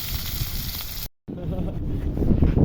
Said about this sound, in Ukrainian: Бо вітруган капітальний.